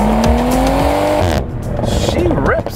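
A 2023 BMW Z4 M40i's engine revs hard and climbs in a rising whine for over a second, then drops off as the pitch falls and the exhaust crackles and burbles. The car is close and loud.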